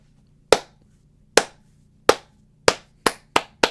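Seven slow, sharp hand claps, spaced roughly a second apart and then quickening toward the end, each crisp and close with a short decay, over a faint low hum.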